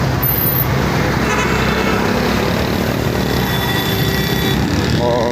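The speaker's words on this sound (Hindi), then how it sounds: "बाकी ये कराची का ट्रैफिक है जैसे कि देख रहे होंगे" Dense, loud road traffic in Karachi, with engines rumbling continuously and car horns tooting over the din. The roar stays steady throughout.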